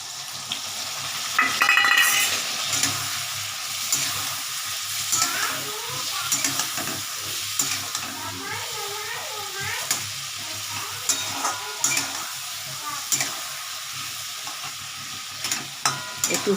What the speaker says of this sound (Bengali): হালকা সাঁতলে নিই